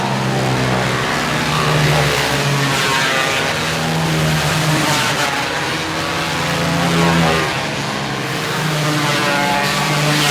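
Micro sprint race cars roar through a feature race on a dirt oval, a loud, continuous, layered engine drone with overlapping pitches rising and falling as the cars pass, heard at a distance with no talk.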